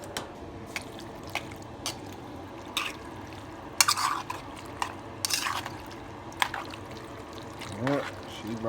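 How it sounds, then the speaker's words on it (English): Noodles and broccoli for homemade alfredo being stirred in a pot, wet squishing and dripping sounds with occasional clinks, close and fairly quiet, while a person talks intermittently over it. "Stir them all up real good."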